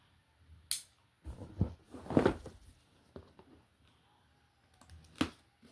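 Packaging for a Retron 3 AV console being cut open: a sharp snip, then a cluster of scraping, rustling cuts and a few scattered clicks, close and fairly quiet, with no talking.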